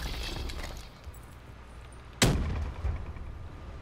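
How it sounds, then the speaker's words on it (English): A single sharp gunshot cracks out in Call of Duty Black Ops III, loud against a steady background of game ambience, with a fainter second report shortly after. "Someone's shooting near the back."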